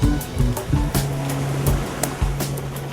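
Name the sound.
waves on a sunny beach in Kozhikode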